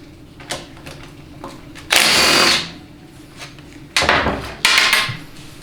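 Three bursts from a power tool spinning out an 8mm bolt that holds the low reverse piston and piston housing in a Ford 6R140 transmission: a sustained whir of about a second, then two shorter spurts, with faint tool clatter between them.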